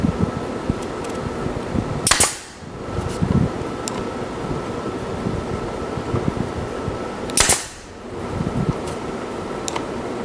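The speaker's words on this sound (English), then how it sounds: "18 gauge 1-inch brads, and I'm going to be shooting them in at 100 psi" A pneumatic brad nailer fires 18 gauge 1-inch brads at 100 psi into a display case, giving two sharp, loud shots several seconds apart, each followed by a brief hiss of air over a steady hum of a compressor or fan.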